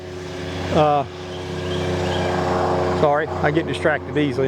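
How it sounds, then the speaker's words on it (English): Airplane from a nearby small airport drones steadily overhead as a continuous engine hum beneath someone talking outdoors in a blueberry field. "I got an small airport close by, so if you hear airplanes, that's why"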